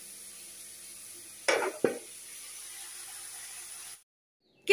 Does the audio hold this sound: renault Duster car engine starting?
no